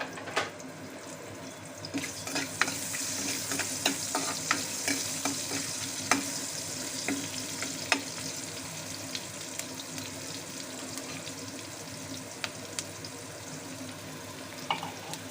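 Finely chopped onions frying in a pan for an egg masala curry, a steady low sizzle with frequent small stirring clicks and scrapes throughout, no voices.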